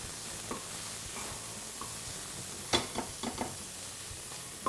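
Shallots frying in a pan, a steady soft sizzle with a few louder crackles and stirring clicks scattered through, close and fairly quiet.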